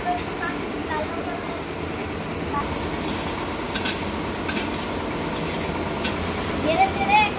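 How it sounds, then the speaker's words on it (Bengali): Mustard seeds and onions fry in oil in a large pot for a big batch of red lentils, a continuous sizzle with occasional stirring scrapes and faint crackles, close and steady throughout. "এই জন্য আন্দাজ মতো সরষে দিয়ে দিচ্ছি, পেঁয়াজ লাল লাল করে ভেজে নেবো।"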